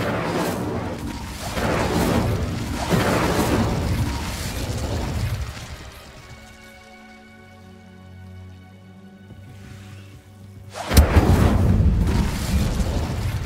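An Incendio fire spell in Hogwarts Legacy sounds as a rumbling, crackling burst that fades into a quieter tonal stretch before a sharp, loud blast flares up again and keeps roaring, with no voices.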